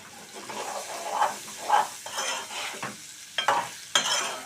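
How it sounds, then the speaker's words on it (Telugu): Soft sizzling of bitter gourd pieces frying in oil, broken by several scraping stirs of a spatula in the pan. "ఈ తాలింపుతోటి ఈ నూనెలో ఇవి బాగా వేగాలి"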